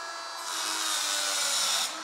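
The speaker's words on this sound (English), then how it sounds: "I think it's safe to say that the Dremel, albeit a great tool, probably isn't very good for what we want to do" A Dremel rotary tool grinds at a car part from an Audi TT Open Sky concept, a steady high whine that swells louder for about a second and a half as the bit bites in, then eases back.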